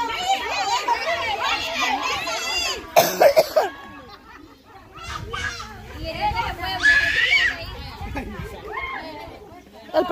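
Coughing bursts out at a children's birthday party game, a few sharp coughs amid lively kids' chatter, shouting and adult voices.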